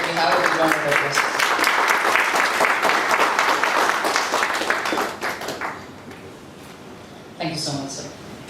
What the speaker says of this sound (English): We have a big round of applause.